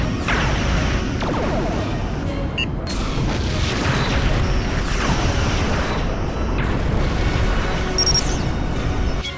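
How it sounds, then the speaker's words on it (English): A Romulan vessel blows apart after photon torpedo hits in the space combat game Star Trek Legacy, a dense, continuous roar of booming blasts and crashing debris that stays loud for the whole stretch. "Locked photons. Romulan vessel destroyed."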